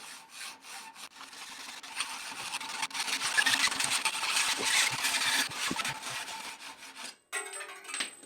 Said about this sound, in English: it sucks or not to use a rusty hacksaw to cut down your handlebars